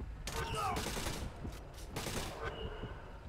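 Gunfire from the video game Splinter Cell Conviction: a few sharp bursts of shots crack out in quick succession, separated by short pauses, against a low ambient game background.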